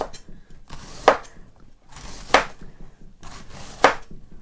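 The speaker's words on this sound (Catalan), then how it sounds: "L'últim tros, anem tallant." Three sharp knife chops through crisp cabbage for sauerkraut on a wooden board, evenly spaced about a second apart, close and clear with quiet rustling between.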